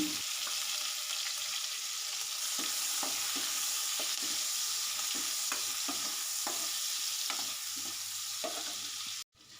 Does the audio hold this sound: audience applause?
no